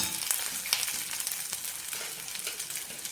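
Green chilies, six of them, sizzle with lightly softened onion in a hot pan while making mint chutney: a steady, close, crackling fry with small pops and no voices.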